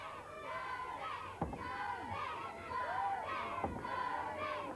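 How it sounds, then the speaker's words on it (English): A 1984 Superstars sports-show crowd in New Zealand roars and shouts for athlete Willie Banks, a steady, fairly distant mass of voices with a few sharper whoops rising above it. "And the crowd are getting behind Willie Banks."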